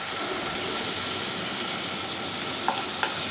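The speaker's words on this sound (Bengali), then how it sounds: "তেলটা গরম হয়ে গেছে, তাই আমি আলুগুলো তেলের মধ্যে দিয়ে দিলাম।" Diced potatoes fry in hot white oil in a nonstick pan, a steady, even sizzle holding throughout, with a couple of faint soft clicks near the end.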